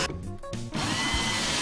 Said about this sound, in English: We pre-drill and countersink all of the frames to ensure that they don't split.